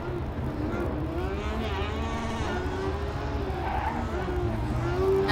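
An Ohio State University Formula Student race car, number 30, launches into an autocross lap, its engine revving and rising in pitch through the gears, mid-distance, over a steady outdoor crowd and ambient rumble.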